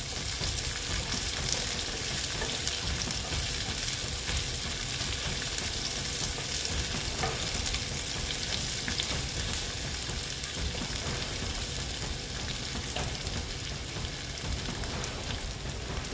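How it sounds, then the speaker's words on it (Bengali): Onions fry in hot oil in a pan, a continuous close-up sizzle and crackle that holds steady throughout without talk. "ভালো মতন আমি এটা ভেজে নেব পেঁয়াজটা"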